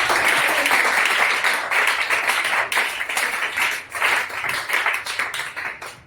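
A church congregation applauding to acclaim the Lord, a sustained wash of many hands clapping that swells and dips in waves for several seconds.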